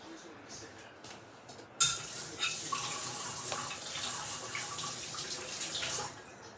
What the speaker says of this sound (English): Rinse off my knife that I'm going to use for my romaine.